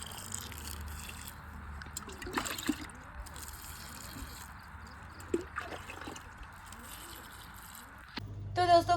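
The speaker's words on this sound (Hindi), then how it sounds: "यहाँ पर हम डालेंगे सारे पेड़ों में थोड़ा थोड़ा पानी" Water is poured a little at a time into potted plants, with soft, intermittent trickles and splashes close by. A burst of louder pouring comes near the end, and there is faint background activity.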